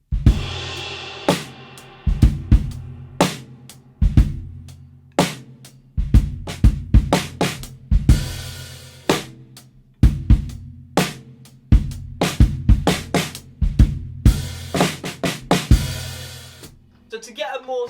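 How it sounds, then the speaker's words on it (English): Full drum kit groove for a country ballad feel, the snare fattened by an upside-down drum head laid over it: steady kick and thick, muffled backbeats with lighter fills between, close and sustained for about eighteen seconds. "this will give you a really fat country ballad sort of sound"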